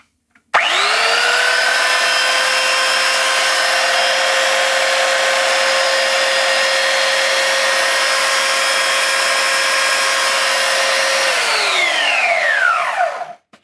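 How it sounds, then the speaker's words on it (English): An orbital sander that copies a DeWalt design spins up sharply, runs at a steady loud whine with a strong motor tone for about eleven seconds, then winds down as it is switched off. "They've got an orbital sander that looks like a copy of the DeWalt that I have."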